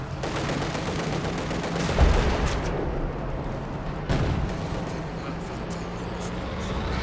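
Dense battlefield din from the Company of Heroes 2 video game as counter-artillery is called in, continuous rattling gunfire with heavy booming impacts around the two- and four-second marks, loud and sustained throughout.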